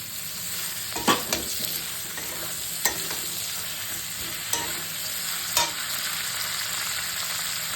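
Eggplant, onion stalks and tomato fry in oil in a pan, a constant hiss of sizzling broken by several sharp knocks and scrapes of a stirring spatula, with no voices.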